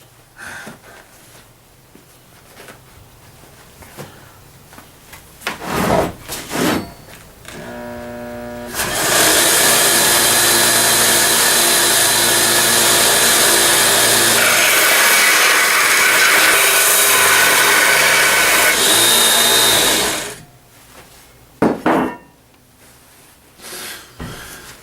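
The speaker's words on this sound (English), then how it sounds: "It's an old sander, and I got it at Harbor Freight." An old Harbor Freight sander grinds a lawnmower blade being shaped into a knife, a loud, steady abrasive whine lasting about eleven seconds after a brief spin-up, with quieter handling clatter before and after.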